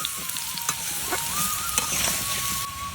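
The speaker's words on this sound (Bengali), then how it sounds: "আলুটা ভেজে নেবো," Potatoes seasoned with salt and turmeric sizzle steadily in a wok, a dense close frying crackle with occasional stirring scrapes and a faint tonal hum running underneath, no voices.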